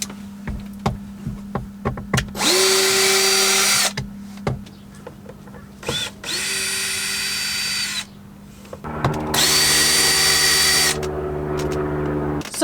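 A power sander works varnished wood inside a camper van, running in three loud whirring bursts of a few seconds each, separated by short pauses with clunks and handling noises.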